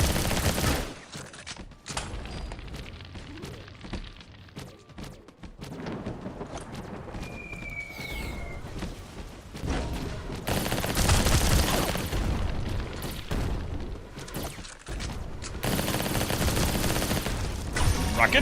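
Rocket fire and explosions in the battle royale game Skillshot City, a dense chaotic run of bursts, booms and rapid gunfire with short quieter gaps, loud and close throughout, plus a brief whistling tone partway through.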